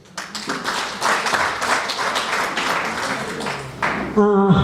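An audience at a women's council assembly in Rwamagana claps in a dense, sustained patter of many hands, fairly close and steady throughout, swelling louder near the end as a voice cuts in.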